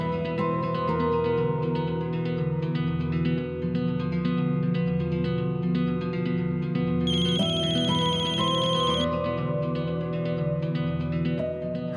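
A phone ringtone plays loud and steady with a repeating melodic pattern, a higher tone layer joining partway through, ringing continuously for an incoming call with no talk.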